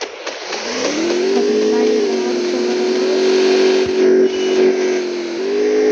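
A motorcycle-like engine revs and holds a steady, buzzy drone, pitch dipping and rising slightly, loud and close throughout.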